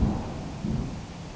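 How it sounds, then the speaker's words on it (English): A thunderstorm over Ballimore, New South Wales, brings a deep, rolling rumble of thunder over a steady wash of rain, swelling twice in a short stretch. "This is the storm that we're getting here."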